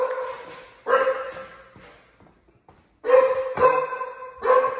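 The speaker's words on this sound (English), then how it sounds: "my dogs didn't recognize me. They barking at me." Pet dogs bark at close range in a home, loud overlapping bursts in two clusters separated by a brief lull, with no speech over them.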